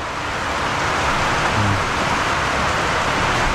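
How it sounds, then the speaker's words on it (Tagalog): Heavy rain on a hut hisses in a dense, steady wash of noise, loud and constant throughout with no voices. "Lakas ng ulan, no?"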